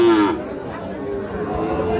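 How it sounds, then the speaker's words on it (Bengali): A Gir breed calf at a cattle market gives a single short moo right at the start, close and fairly loud, followed by background chatter and crowd murmur. "সুন্দর সাইজের গির বাচ্চা।"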